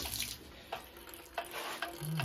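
Water runs from a kitchen or bathroom tap with weak pressure and a clogged aerator, a steady close splashing stream with a few faint clunks over it.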